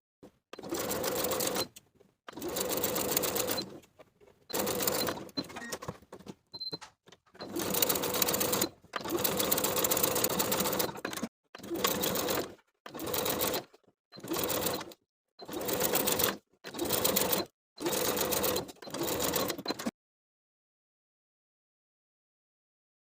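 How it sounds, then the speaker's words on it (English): Sewing machine top stitching a cardigan cuff seam, running in about a dozen loud close bursts of rapid needle stitching separated by short pauses, with no talk. "We'll top stitch in place as we've done previously."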